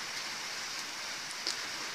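Steady rain without thunder falls on a garden in Vrancea, Romania, a constant even hiss of drops with a few faint patters, no voices.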